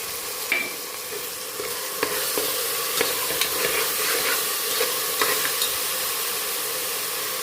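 Garlic-ginger paste frying in a beef curry pan, a bright continuous sizzle that swells after a couple of seconds, punctuated by several spoon scrapes and clinks, no voices.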